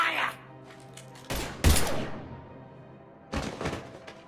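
Gunfire in the video game Mass Effect 3, with sharp bursts of shots and heavy thuds between stretches of game ambience, loud and close.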